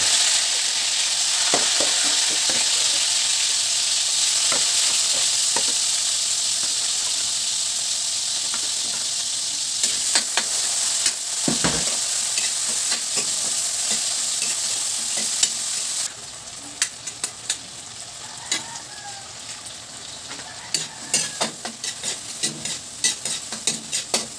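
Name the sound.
frying and stirring ampalaya (bitter gourd)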